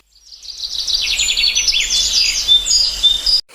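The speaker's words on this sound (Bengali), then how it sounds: "সকালে পাখির কিচিরমিচির আওয়াজ" Morning birds chirp and twitter in quick, high, overlapping calls close by, steady for a few seconds with no one speaking.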